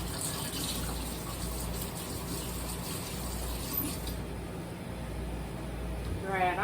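Kitchen tap water runs steadily over a spatula being rinsed, a constant gushing wash heard up close with no talking.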